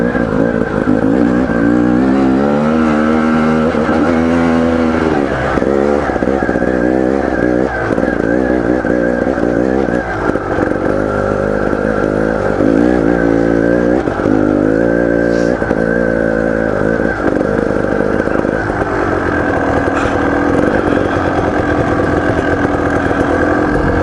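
Beta Xtrainer dirt bike ridden on the Hell's Gate trail near Moab, its engine loud and close throughout with steady droning and repeated revving surges as the throttle rises and falls.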